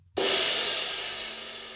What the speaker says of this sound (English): So let's say you start with a cymbal crash sound like this.